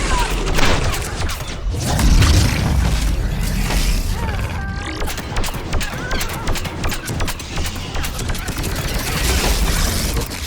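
Gunfire from a mounted gun in Mass Effect 3 thuds and rattles in heavy, rapid bursts over a noisy battle bed, with a voice speaking briefly among the shots.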